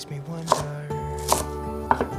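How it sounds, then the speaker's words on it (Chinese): Cabbage leaves being chopped with a knife on a board, three crisp, evenly spaced cuts with quiet hum between them. "把高丽菜切碎。"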